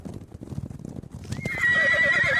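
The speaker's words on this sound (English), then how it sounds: "there's another sickening, horrible crunching noise, and another horse screams." A horse-scream sound effect is played during a tabletop role-playing game, starting with low thudding hoof-like knocks and then rising into a loud, shrill, sustained neigh that carries to the end.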